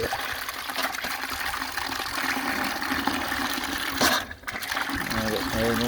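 Water rushes steadily through a newly plumbed line at an outdoor critter station, a continuous loud gushing flow with a brief dip partway through before surging again.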